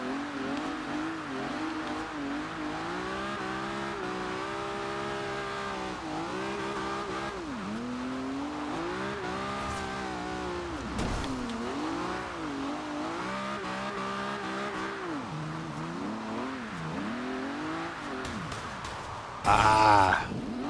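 In Forza Horizon 2, a car engine revs and dips repeatedly while drifting on wet roads, loud rising and falling whines with tire squeal, and a brief burst near the end.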